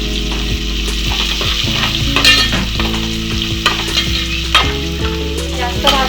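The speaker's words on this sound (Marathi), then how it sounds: "ह्याला फक्त असं तेलावरती परतून घ्यायचंय।" Crushed ginger, garlic and green chili stir-frying in hot oil sizzle loudly and steadily up close, with repeated scraping stirs and metallic taps of a spoon against the pan throughout.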